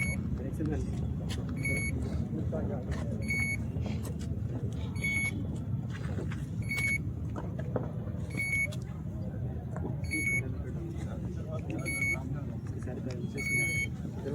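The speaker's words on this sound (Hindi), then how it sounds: "इसमें ये सेफ्टी स्विच है, ये जब बीप करता है, बीप की आवाज़ 10 से 15 सेकंड इसको बीप करना चाहिए।" A drone's safety switch beeps in short, high, regular pips about every 1.7 seconds, cutting through a constant low rumble of background noise and movement.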